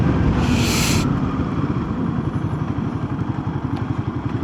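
Royal Enfield Himalayan motorcycle engine held at steady high revs while riding, a loud, continuous, throbbing drone close by with a rapid pulsing beat and no pauses.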